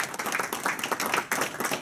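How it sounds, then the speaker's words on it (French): Applause at a republican banquet in Paris, a crowd clapping with steady, irregular hand claps, close and fairly loud, with a brief dip partway through. "Il faut l'applaudir."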